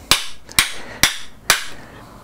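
A hammer knocks a star nut down into an alloy bicycle fork steerer with four sharp, evenly spaced metallic taps, each ringing briefly, close and clear with nothing else heard.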